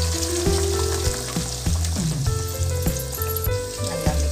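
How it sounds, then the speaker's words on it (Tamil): Coconut milk poured into a sizzling mutton dum gravy crackles and spatters loudly and steadily up close, with sharp utensil taps and a ringing tone running through it. "ஸோ இந்த ஸ்டேஜில் நம்மளோட தேங்காய் பாலை இங்கே நம்ம சேர்த்துக்கலாம்."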